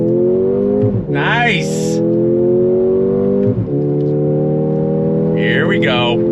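A 2024 Mercedes-AMG GLA 35 launches hard from a race start, its engine roaring loud and steady from cabin level with brief tire squeals rising over it, while a voice speaks briefly over the noise.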